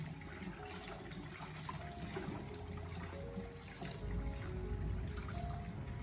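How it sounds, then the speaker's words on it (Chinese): Tap water runs steadily over pork ribs being rinsed in a home kitchen, a continuous close trickle and splash with a slight swell in volume near the end. "我們將買回家的排骨進行清洗一下"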